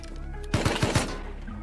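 An AK fires in the video game Rust, about four quick loud shots in a tight burst near the middle, close and sharp, with quieter game ambience before and after and no talking.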